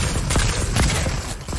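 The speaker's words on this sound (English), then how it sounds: "They're shooting back at me." Gunfire in Fortnite: Battle Royale: a dense burst of rapid shots and booms over a loud continuous backdrop, near and forceful, lasting a little over a second.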